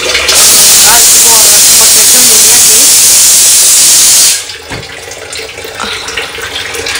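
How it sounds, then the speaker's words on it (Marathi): Hot water from a small one-litre geyser gushing out of a tap in a strong, loud, steady hissing stream, then cut off abruptly, leaving faint room noise and a few knocks. "गिझरचं पाणी चालू"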